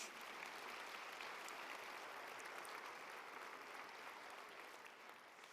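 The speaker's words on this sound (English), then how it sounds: "let's give them another round of applause before I get started with my speech." Steady, dense applause from a large audience at a university commencement ceremony, loud and continuous throughout before easing slightly near the end.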